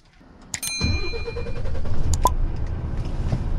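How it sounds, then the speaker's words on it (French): A car engine cranks briefly and catches, then settles into a steady, fairly loud idle close by. "Je démarre mon moteur."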